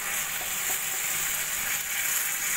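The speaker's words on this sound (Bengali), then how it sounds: "এই মশলাটা দিয়েও আমি 2-3 মিনিট মতো ভাজা ভাজা করে নেব।" Spice paste fries in a pan for an oyster mushroom curry, a steady, close, dense sizzle running without a break.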